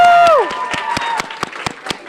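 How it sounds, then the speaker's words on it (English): Scattered clapping at a high school cross country senior night, a handful of distinct, roughly evenly spaced claps following a brief whistle-like tone at the start, close and moderately loud. "Clap it up for him."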